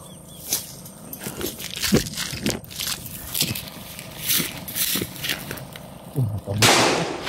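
Sharp firecracker bangs pop irregularly, some near and loud, others fainter, with a burst of crackling near the end.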